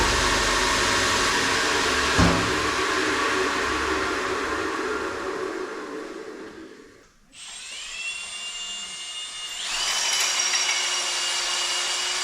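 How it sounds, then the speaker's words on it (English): A power drill bores out a bolt hole in hard metal while a press is being modified, a steady whining drone that dips and stops near the middle, then restarts and runs on evenly to the end. "I'll drill that hole out a little bit."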